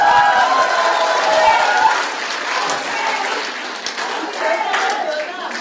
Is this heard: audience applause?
yes